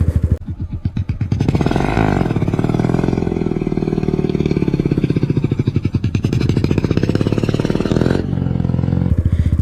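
A Honda Grom motorcycle engine revs hard and close during wheelie practice, climbing in pitch and holding a loud, buzzing drone before dropping back near the end.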